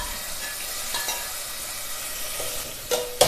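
Chopped tomato and slit green chillies sauté in coconut oil for a Kerala-style fish curry, a close, even sizzle with a few sharp utensil knocks near the end.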